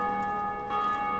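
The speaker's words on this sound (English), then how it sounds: "Man, I hear that bell." A bell tolls in the Dark Souls video game, a steady sustained ring with lingering overtones that swells slightly partway through, heard alone without talk.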